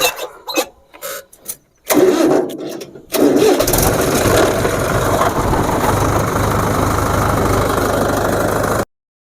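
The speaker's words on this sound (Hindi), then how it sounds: "अब पहले आप ट्रैक्टर का काम देखो, रोटावेटर द्वारा बड़े के कैसे हम कर सके आसानी से।" Tractor running a large rotavator through a sugarcane ratoon field after the third-year crop is dug out, engine roaring up loudly after a few brief sputters and then churning steadily and close for several seconds.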